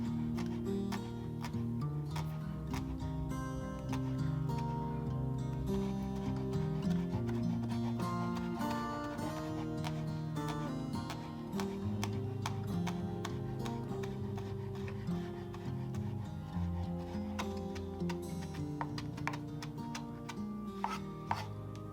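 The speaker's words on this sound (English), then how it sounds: "I am going to chop them up finely." Steady knife chopping garlic on a board, quick repeated taps in an uneven rhythm, close and clear over a continuous tonal background.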